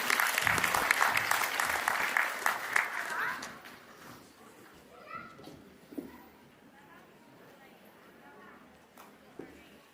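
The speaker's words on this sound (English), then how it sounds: "Please give her a huge round of applause." Graduation ceremony audience applauding as a student is called to the stage: a loud burst of crowd clapping that dies away within about four seconds, followed by quiet room noise, faint murmurs and scattered small sounds.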